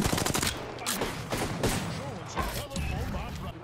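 Rapid automatic gunfire in a fast Apex Legends firefight, dense overlapping bursts from more than one weapon, loud and continuous, with a player's voice talking over the shooting.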